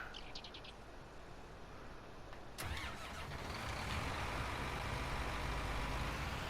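A tractor engine in the video game Farming Simulator starts abruptly after a quiet stretch with faint bird chirps, then settles into a steady, loud rumbling run.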